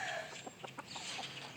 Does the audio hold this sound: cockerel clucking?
yes